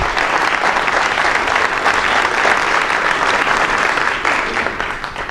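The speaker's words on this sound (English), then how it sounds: "Let's just get a round of applause to Abram." Sustained round of crowd applause at a David Cobb talk in Asheville, dense and steady throughout, tapering slightly near the end.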